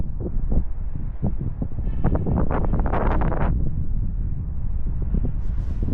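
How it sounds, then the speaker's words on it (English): Strong wind buffets the internal microphone of an Insta360 Ace Pro 2 action camera outdoors, even with wind reduction switched on, producing a loud, steady roaring rumble with gusty thumps throughout. "And that wind's just as strong."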